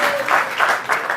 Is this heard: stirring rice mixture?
no